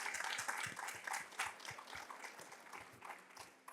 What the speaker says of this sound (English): So round of applause for Mrs. Garcia,